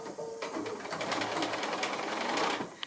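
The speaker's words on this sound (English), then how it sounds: "do my extra line of sewing and then trim off the corners" A sewing machine runs steadily, stitching an extra line of sewing across a quilt block in a house sampler pattern, with a continuous close buzzing hum for about three seconds and no talking.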